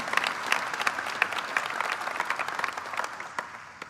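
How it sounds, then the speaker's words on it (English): Crowd at a university presidential investiture claps in a lively round of applause, individual sharp claps standing out within the dense patter, gradually tapering off toward the end. "you can clap for yourself, that's okay"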